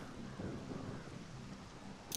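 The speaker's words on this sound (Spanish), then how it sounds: "La lluvia está muy bien hecha," Rain falls in the video game Ghost Recon Wildlands as a quiet, steady hiss with a low rumbling undertone, unbroken and without voices.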